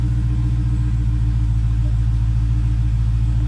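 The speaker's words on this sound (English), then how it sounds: "Again, car starts up." A 2018 Dodge Charger settles into a steady, low idle after starting, its deep engine rumble droning evenly and close with no break.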